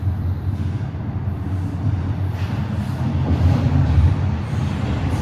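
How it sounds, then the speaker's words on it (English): A Toronto TTC subway train rumbles low and steady as it rolls westbound into Bessarion Station, the noise swelling slightly toward the end, with no voices. "Here comes a westbound train."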